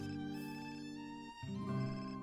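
A phone rings in The Sims 4 with a bright, tonal electronic ringtone, two short sustained bursts separated by a brief gap, clear and alone.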